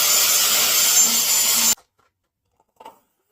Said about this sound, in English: I begin by grinding the bottom of the bowl until it rests level on my table.